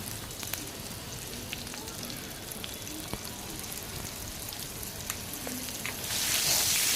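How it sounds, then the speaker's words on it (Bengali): Potato pieces seasoned with salt and turmeric fry in oil with a low, steady crackling hiss, broken by a few sharp clicks, swelling louder near the end. "আলুগুলোকেও আমি দেখো অল্প করে নুন আর হলুদ দিয়ে আলুগুলোকেও আমি ভেজে রাখবো"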